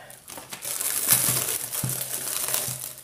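A container of acrylic pouring binder is pried open, giving a steady close crinkling and crackling of packaging for a few seconds.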